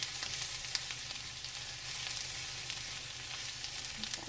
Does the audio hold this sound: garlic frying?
yes